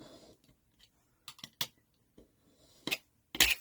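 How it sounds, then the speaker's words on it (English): Scissors slice through a stack of journal pages with a handful of crisp, close snips coming in uneven bursts, separated by quiet pauses in a still room. "Make sure they're all cut through."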